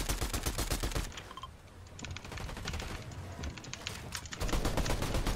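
Rapid automatic gunfire sprays in dense bursts during a Fortnite FNCS match, loud and close at the start, easing to scattered shots midway, then returning to heavy continuous fire near the end.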